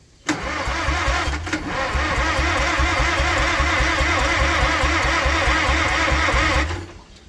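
A seized Farmall tractor engine cranks over with a booster hooked up, a loud, rhythmic chugging turnover that runs steadily for several seconds before cutting off, with no talk over it.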